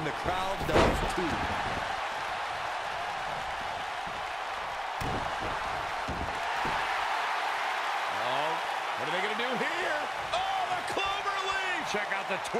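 Crowd noise from a women's match in the WWE 2K19 wrestling video game, a steady cheering wash under a commentator's voice with occasional thuds of bodies hitting the mat.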